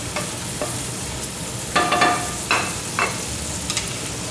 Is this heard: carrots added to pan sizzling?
yes